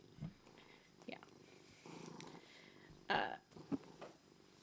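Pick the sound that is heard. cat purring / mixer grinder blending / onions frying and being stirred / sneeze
cat purring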